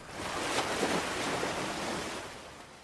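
Waves roll onto a sandy sea beach in a steady wash of surf, swelling early and then easing slightly, with the wind adding a soft hiss and no voices.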